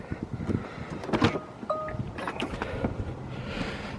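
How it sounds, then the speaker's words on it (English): Door of a 2022 Tesla Model 3 Long Range AWD opening, with a soft click and a short electronic tone over quiet ambient noise, close and fairly faint. "Let me open the door for you to show you."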